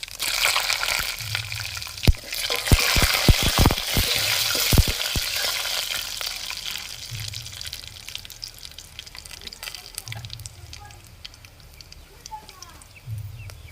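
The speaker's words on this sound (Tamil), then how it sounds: "எண்ணெய் சூடாச்சுங்க, கடுகு உளுந்து போட்டுக்கிறோம்." Oil sizzles and crackles steadily, with a burst of sharp pops and spits early on as mustard seeds and lentils hit the hot pan, then settling into a softer fry.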